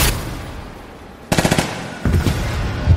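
Two sharp rapid bursts of automatic gunfire, loud and close, separated by a short pause over a faint background hiss.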